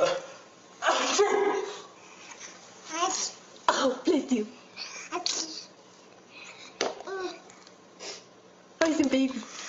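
Baby sneezing, a small sharp sneeze heard nearby among coughs and soft babbling, with an adult talking quietly in between.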